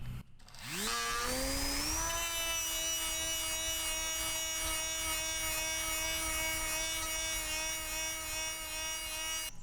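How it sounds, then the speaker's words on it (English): Dremel rotary tool fitted with a Scotch pad, scrubbing rust pitting on an Evo 9 body: the motor spins up with a rising whine in the first two seconds, then holds a loud, steady high-pitched buzz. "that's what the Scotch pad on the Dremel is I'm trying to do and accomplish"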